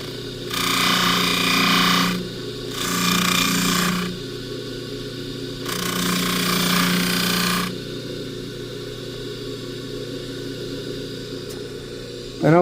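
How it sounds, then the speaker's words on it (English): A polishing machine works a bracelet during a repair, sounding in three loud bursts of a few seconds each with short pauses between. A steady low motor hum continues underneath, and the machine is close by. "during this downtime as we're polishing this bracelet"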